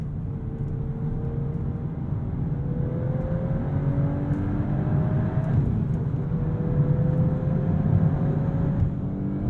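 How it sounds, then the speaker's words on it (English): A Volkswagen Golf R's turbocharged four-cylinder engine pulls hard, its note climbing in repeated rising sweeps over a steady road drone. "I like hearing more of that Turbo 4 as well."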